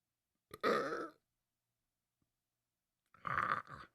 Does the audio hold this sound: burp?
yes